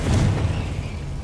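A Confringo fire spell bursts in the Hogwarts Legacy game, a single loud, low boom that fades into a rumbling tail over about a second.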